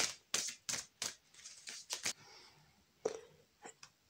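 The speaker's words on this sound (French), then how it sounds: "on va aller tirer une carte de conclusion. Toujours avec le tarot" Tarot cards handled and drawn from a deck, giving a run of crisp, separate clicks and papery snaps, close and fairly quiet, spaced irregularly with short pauses between them.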